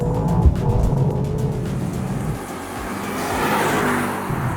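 A Mercedes-AMG GT 63 Pro V8 engine growls and revs loudly nearby, its exhaust note rising and falling with a few pops and crackles, no voices over it.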